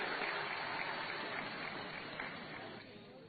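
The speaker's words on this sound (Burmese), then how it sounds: "လက်ခုပ်တီးပြီးတော့ကျွန်တော်တို့ဒီ ကွာရကိုကြိုဆိုကြပါစို့" Audience applause welcoming a choir of more than 300 singers from Yangon at a live festival service: a steady, dense wash of clapping that holds at an even level for the whole stretch and thins slightly near the end.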